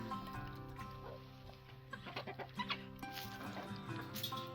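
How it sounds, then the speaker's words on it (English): Several hungry chickens cluck and squawk together at moderate distance behind a gate, busy overlapping calls from a restless flock, with no talking. "Chickens are so hungry, they're trying to bust through the gate."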